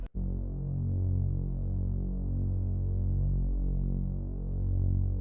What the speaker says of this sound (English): Next sound we have this synth bass from GMS